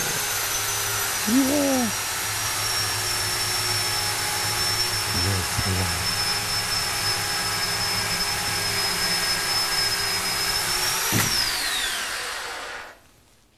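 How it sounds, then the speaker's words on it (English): A slow-running chainsaw drones steadily throughout at a constant pitch, with a brief voice early on, before the sound cuts off at the end. "That's the slowest darn chainsaw I think I've ever."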